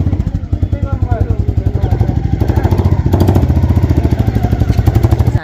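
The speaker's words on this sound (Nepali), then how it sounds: "हामी चाहिँ अब बाइकमा अर्को बाटो जान्छौँ" Motorcycle engine running close by, a loud rapid pulsing putter with a steady rhythm that rises slightly in pace partway through, with a voice talking over it.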